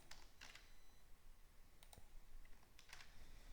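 Keys on a computer keyboard are tapped in a few short clusters of light clicks over steady background hiss, fairly quiet and without any voice.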